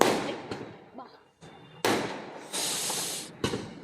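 Several sharp firecracker bangs burst close by at irregular intervals during New Year celebrations, some followed by hissing sprays and crackling, with voices faintly in between.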